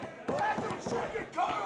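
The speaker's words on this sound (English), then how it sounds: "And listen to the crowd." A wrestling crowd cheers and shouts in an arena, loud and continuous bursts of noise, with a commentator's voice talking over the roar.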